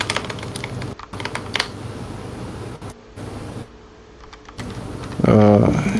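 Commands being typed on a computer keyboard at a Mac terminal, a steady run of close key clicks with brief pauses, then a louder burst of clatter near the end.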